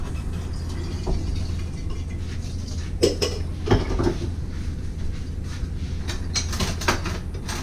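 A spoon stirring yacon powder into a cup of coffee, bright metallic clinks against the cup in short clusters over a low steady hum, no talk.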